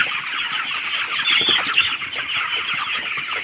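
A hen clucks steadily in a run of close, rapid calls, fairly loud and alone with no voices.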